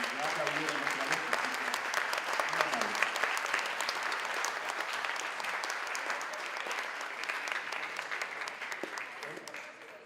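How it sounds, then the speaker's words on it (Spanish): Lecture audience applauding in a university hall, a steady, fairly distant wash of clapping that holds for about ten seconds and fades slightly toward the end. "Y ya aplaudieron otra vez"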